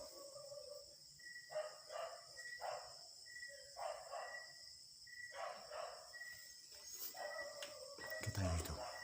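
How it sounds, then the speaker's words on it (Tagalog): A dog in a house at night barks in repeated short bursts some distance away, each volley of several yaps separated by pauses, over a constant hiss of crickets and insects, with a louder rustle close by at the end. "Ingay talaga yung aso dito."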